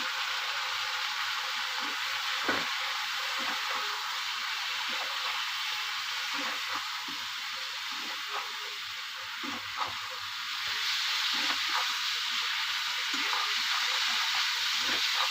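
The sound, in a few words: frying spiced ingredients in a pan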